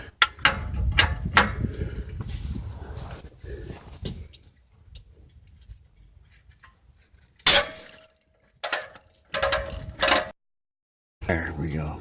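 Hitch bolts being removed from a Suzuki SX4: a burst of clinking, ratcheting metal at the start, then quiet fiddling, followed by a few sharp, close metallic clanks spaced apart.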